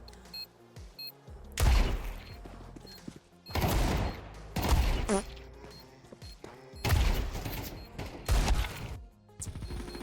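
Gunfire in an online shooter video game, loud repeated bursts of shots and thuds arriving in several heavy clusters, with busy game noise between them.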